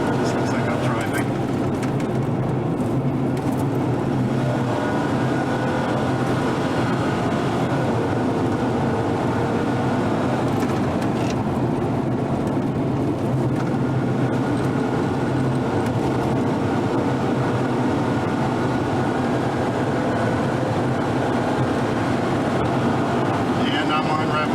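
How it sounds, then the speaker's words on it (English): A 1992 Mitsubishi Galant VR-4 driven hard in rally practice, its engine bouncing off the rev limiter as a steady, dense roar with road and cabin noise, while someone talks over it throughout. "And I'm on rev limiter"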